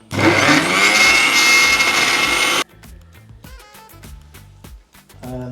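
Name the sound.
mixer grinder grinding boiled potatoes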